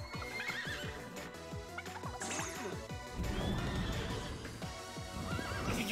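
In the Miitopia video game a horse whinnies over fast clip-clopping hooves amid crashing hit effects, loud and busy throughout.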